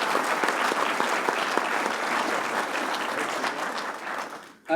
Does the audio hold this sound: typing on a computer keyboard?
no